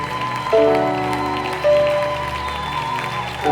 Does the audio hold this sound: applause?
yes